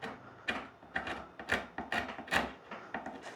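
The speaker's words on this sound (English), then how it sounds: "I'm just going to scrape that off." A scraper works old veneer repair material off a wooden furniture edge in steady rasping strokes, about eight short scrapes in a rhythmic back-and-forth, close and clear with no talking over it.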